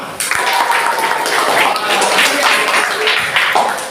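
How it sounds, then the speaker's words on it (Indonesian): Students in a classroom break into another round of clapping, a busy scatter of close hand claps lasting several seconds, with talk mixed in beneath the applause. "Tepuk tangan lagi untuk anak semua."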